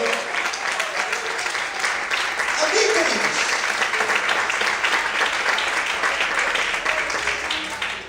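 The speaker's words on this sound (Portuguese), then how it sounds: "Quantos podem aplaudir e exaltar o Senhor nessa manhã?" A church congregation applauds steadily through a Sunday morning service, the dense clapping filling the room at full strength while a preacher's voice briefly speaks over it.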